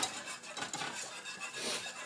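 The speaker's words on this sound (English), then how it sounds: "You just want to continuously whisk this so you form no lumps in your curry." Whisk scraping and clinking against a pot while Gujarati kadhi curry is stirred continuously over medium-high heat, a steady close-up metallic rattle with no voices.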